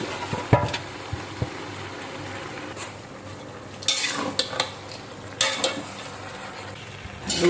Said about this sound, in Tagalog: Haluin natin para mag-mix lahat ng gulay.